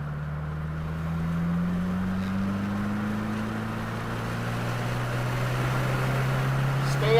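A 2022 Subaru WRX engine drones steadily under throttle on a race track, its low tone rising gently in pitch and holding near and loud throughout, with a faint voice buried beneath.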